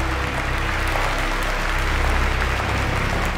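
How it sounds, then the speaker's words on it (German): Steady applause from a large crowd in a video game, continuous and dense clapping throughout with no gaps, fairly loud and even. "Wir setzen uns hier hin und warten, bis die fertig sind mit Klatschen."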